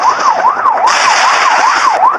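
A police car siren wails in the Rope Hero video game, loud and close with a fast repeating up-and-down sweep, a harsher tone layered in partway through, and no voices over it.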